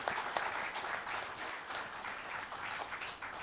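A round of applause for the organising team at a VIT School of Law event: dense, steady clapping from an audience, moderately near, continuing evenly for a few seconds without talk.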